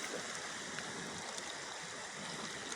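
A river beside the bank in San Jose del Monte, Bulacan, flowing in a steady, even, broadband rush, faint and continuous, with no voices.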